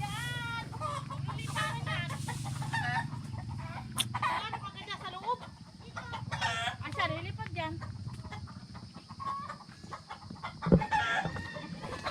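Gamefowl in a breeding range area, including a gold and white bird, clucking and calling repeatedly at close range, with a rooster crow among the varied cackles while people talk in the background.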